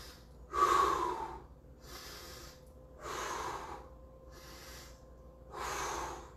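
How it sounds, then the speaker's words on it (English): Slow, deep breaths during a karate kata, four or five long airy exhalations spaced about a second and a half apart, fairly close and quiet, with no talking. "it teaches you how to breathe"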